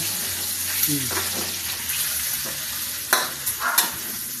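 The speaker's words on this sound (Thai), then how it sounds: "ผัดผัดผัดจะไม่จะไม่ติดกระทะไหม" Food sizzles and hisses in a hot wok while stir-frying, a utensil scraping and clinking a few times against the metal.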